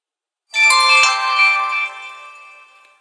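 An HTC One smartphone plays its short startup chime, a bright ringing tone that starts suddenly, holds briefly and then fades out alone, with no voices.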